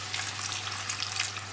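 Water pours into a cooking pot over chicken, a steady hissing splash lasting a moment with no talk.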